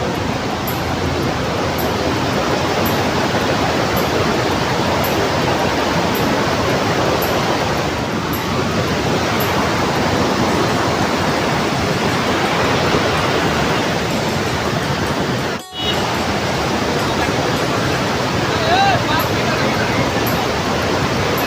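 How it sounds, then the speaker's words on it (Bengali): Fast-flowing water pouring over a drop at Dumboor, a loud, continuous broadband roar heard close up, steady from start to finish with a brief dropout near the middle. "তো দেখো বন্ধুরা জলের কি স্পিড, তো এই জলটা ওই উপর দিয়ে গিয়ে পড়ে।"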